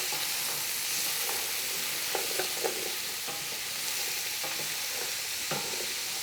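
Diced onions and carrots softening in a hot pot, a steady hiss of gentle frying with scattered soft scrapes and clicks of stirring, close and even, with no voices.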